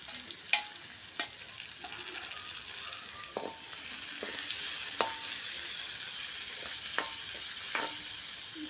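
Chopped onions frying in hot oil for an egg curry give off a steady, close sizzle, punctuated by scattered sharp clicks and scrapes of stirring, with no talking.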